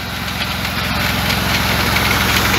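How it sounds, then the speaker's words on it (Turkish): A Başak 2043 tractor engine idles up close, loud and steady with a regular low throb and mechanical vibration running unbroken throughout, no voices over it. "Traktörümüz Başak 2043."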